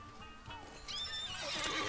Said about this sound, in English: bring out my horse while I'm talking